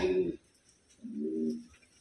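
A black check Wantai pigeon gives a low, throaty coo up close, a single rolling phrase with a short sound just before it and quiet gaps around.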